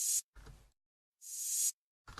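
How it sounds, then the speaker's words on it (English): Reversed cymbal crash sample, quiet hissy swells that build and cut off abruptly, two of them separated by short low thuds, heard alone. "It's a cymbal that has been played in reverse."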